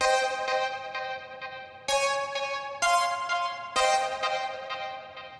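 Saw wave synth plucks run through a psychedelic effects chain play a repeating pattern of bright, ringing notes with decaying tails and accented hits roughly every second, loud and alone.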